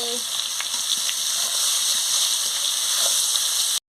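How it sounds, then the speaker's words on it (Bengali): Food sizzles and crackles steadily in hot oil, with a few stirring scrapes and pops, fairly close and continuous. "করে ভেজে নিচ্ছি"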